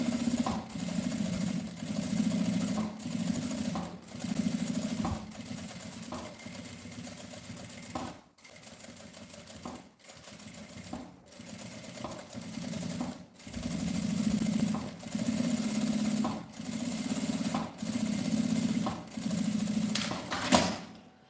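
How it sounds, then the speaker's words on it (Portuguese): A sewing machine runs in steady bursts, topstitching around the edges of a double-opening fabric pencil case, its fast mechanical whirr stopping briefly and restarting several times. "vamos passar uma costura de pesponto, rebatendo"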